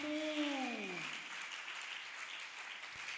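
A congregation at a French-language church service led by Bishop Matola applauds the Lord Jesus, a steady wash of clapping from the crowd, fairly faint and distant, with a voice sliding downward over the start.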